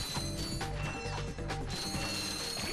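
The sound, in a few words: collecting bolts in Ratchet & Clank HD video game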